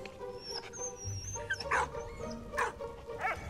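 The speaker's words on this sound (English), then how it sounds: "Come on, dog." A dog in the World War I game Valiant Hearts barks and yips several times in short bursts, with a few whimpers between them, close and clear over faint background game sounds.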